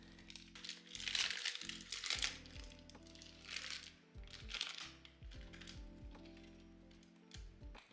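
Grease paper is peeled off a baked loaf of wholewheat Jamaican hardo bread, giving close, faint, intermittent crinkling and tearing rustles in several bursts.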